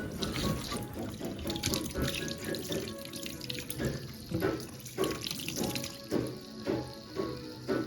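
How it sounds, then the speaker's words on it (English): Vegetables and fruits rinsed under a running kitchen tap to wash off soap, a steady splashing stream into the sink with soft knocks and clatter of produce throughout, no talking. "our next step is to rinse and ensure that all the soap is off our vegetables"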